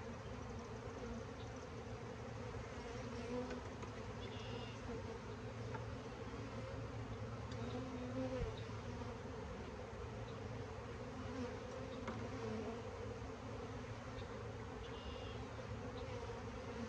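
Honeybees from a swarm hive packed with bees during a hive inspection, droning in a dense, steady buzz that fills the whole stretch without pause or voices.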